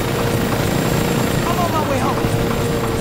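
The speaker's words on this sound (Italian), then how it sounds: "L'elicottero dov'è finito?" A helicopter in the video game Saints Row 2 drones with a steady rotor hum throughout, mixed with game ambience and voices.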